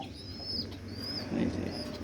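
Pet pigeons coo softly in a loft, low throaty murmurs close by with a faint chirp and a brief flutter of wings among them.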